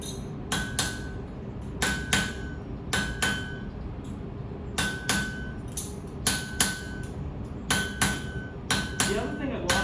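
A hammer strikes metal on an anvil while trimming metal, with close, sharp ringing blows landing in quick clusters of two or three, repeated steadily.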